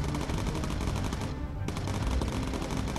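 Sustained rapid gunfire from a bomber's turret guns in the Bomber Crew game, dense and continuous for the whole stretch with a brief thinning of the crackle midway.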